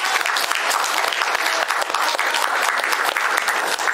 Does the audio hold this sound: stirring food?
no